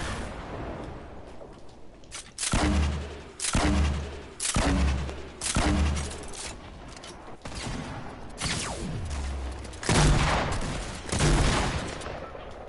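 Video game gunfire rips out in a series of loud, close bursts, roughly eight volleys spaced a second or so apart, each with a sharp attack and a booming low tail.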